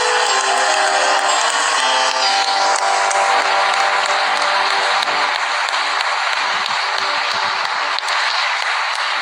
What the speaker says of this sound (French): Vous pouvez continuer à acclamer, vous pouvez continuer.